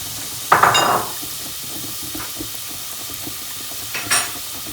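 Onion, garlic and carrot stirred in a frying pan: a loud scrape and sizzle burst at the start, then a low steady frying hiss with faint stirring clinks and another brief scrape near the end.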